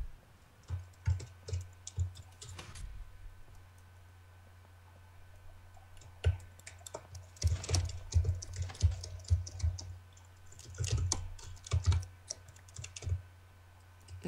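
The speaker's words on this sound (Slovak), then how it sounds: "Nečukaj toľko do klávesnice." Heavy, rapid typing on a computer keyboard during a Minecraft session, with clustered bursts of clacking keystrokes and short pauses, close and fairly quiet, with no talking.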